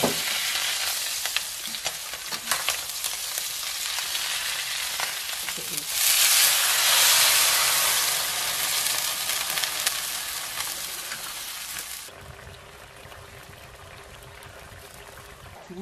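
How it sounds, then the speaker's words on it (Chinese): Ginger sizzles and crackles in hot sesame oil in a wok, a loud continuous frying hiss with stirring scrapes that swells midway then eases to a lower sizzle, no talk. "加香，香油啊，生姜一起炒一下。"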